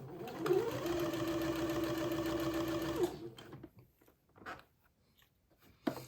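A sewing machine stitches fabric in a steady, fast whirring run for about three seconds, then stops, followed by a few faint handling clicks and rustles.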